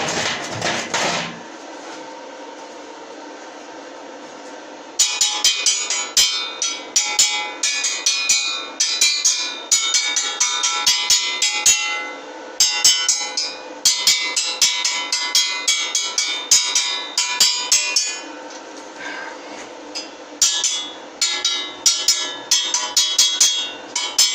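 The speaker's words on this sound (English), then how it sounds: "Now I'm just going to chop off some of the slag" A hammer chips slag off a fresh weld on a scrolled steel fire pit, after a short quiet lead-in, with rapid, close, sharp metallic taps in dense bursts that continue steadily to the end.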